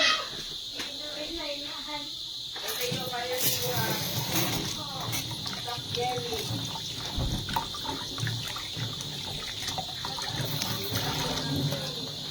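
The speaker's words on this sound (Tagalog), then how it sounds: "Hugasan lang natin yung mangga" Running water from a tap splashes and trickles steadily as a mango is rinsed under it, close and fairly loud, with a person speaking over the washing.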